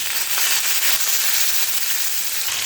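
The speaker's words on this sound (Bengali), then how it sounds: "লাল লাল করে ভাজা হয়ে গেছে এবার দিয়ে দেবো পেঁয়াজ কুচি" Chopped onions hit potatoes frying in hot oil, giving a loud, dense, continuous sizzle with no voices.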